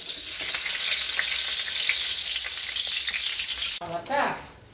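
Eggplant slices frying in hot oil give a loud, steady sizzle for most of the moment, then it cuts off abruptly and a few softer clatters and sputters follow near the end.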